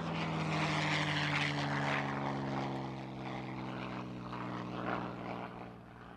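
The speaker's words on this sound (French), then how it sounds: "Le Merlin fait un bruit bien distinct." A P-51 Mustang's Merlin piston engine drones loudly and steadily with a deep, throbbing growl, holding close and strong throughout.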